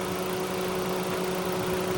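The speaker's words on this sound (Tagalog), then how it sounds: "So dapat sundin natin para maiwasan natin ganito na umingay yung makina." A Mitsubishi Xpander engine that turned noisy after an oil change runs at a steady idle, giving a constant close-up hum with a faint tonal drone and no talking.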